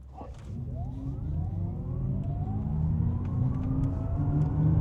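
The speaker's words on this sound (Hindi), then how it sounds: "ये सेकंड गियर इसका शिफ्ट हुआ" An Audi RS e-tron GT electric car accelerates hard from a standstill with early wheel spin. Its motor gives a smooth whine that climbs steadily in pitch over a constant rolling rumble, with no speech.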